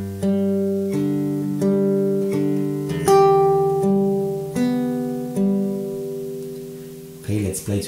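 Fingerstyle acoustic guitar plays a measure of a song, with plucked notes and chords ringing clearly in a slow, steady rhythm, close and alone, and a brief noisy sound at the very end.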